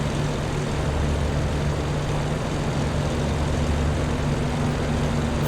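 A Bf 109 K-4 Kurfürst piston engine roars steadily in the DCS flight simulator, a loud, continuous propeller-engine drone with a constant tone and no talk.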